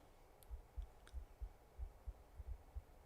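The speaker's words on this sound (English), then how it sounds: "Oh, that's a strange sound. Is that my heartbeat?" Heartbeat sound effect from the video game The Excavation of Hob's Barrow: a steady series of soft, low thumping beats, about eight in three seconds, quiet and alone with a couple of faint clicks.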